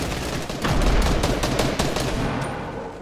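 Rapid automatic gunfire in a PUBG match, a loud close burst of shots rattling steadily for about three seconds, with no voices over it.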